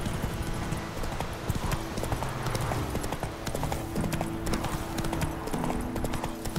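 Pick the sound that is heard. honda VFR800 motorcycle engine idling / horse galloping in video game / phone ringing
horse galloping in video game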